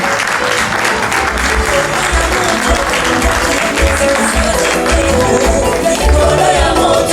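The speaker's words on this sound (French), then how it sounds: "On applaudit très fort." Enthusiastic audience applause at a 2018 charity gala welcoming an association guest onto the stage, a loud, dense, sustained clapping from a crowd with music playing underneath throughout.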